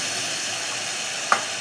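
Soaked, washed lentils tipped into hot tempering for Marathi-style varan hiss and sizzle steadily, with one brief louder spatter near the end.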